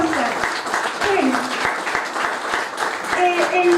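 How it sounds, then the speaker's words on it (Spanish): Applause from an audience at a book presentation, a rippling mass of clapping heard alongside a voice speaking over it, moderately loud and continuous. "un fuerte aplauso también para Marcela."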